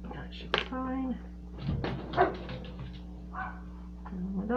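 Dogs bark and yip in short, scattered bursts at a moderate distance, mixed with whimpers, while a person talks and handles objects close by.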